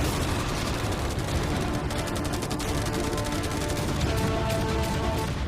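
Dense, continuous bursts of rapid machine-gun fire crackle and rattle throughout, aimed at a yacht, overlapping sharp shots with heavier cannon booms underneath.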